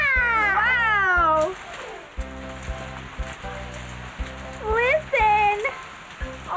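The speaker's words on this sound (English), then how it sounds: "Oh, no. It's raining again." Rain falls as a steady, hissing patter, with high, swooping meow-like cries rising over it at the start and again near the end.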